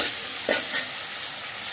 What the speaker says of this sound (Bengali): এখন আমি এটাকে এভাবে কষিয়ে নেব